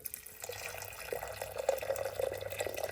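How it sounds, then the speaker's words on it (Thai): Water poured over beans into the jug of a DLT-Afel blender, a short quiet trickling splash that builds slightly, heard close. "ผมเอาน้ำใส่"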